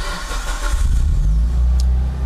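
A car engine run on a Haltech ECU fires up and settles into a steady idle, a loud close rumble following the brief start with no talking.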